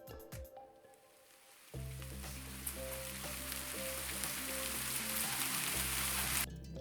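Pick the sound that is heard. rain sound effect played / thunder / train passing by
rain sound effect played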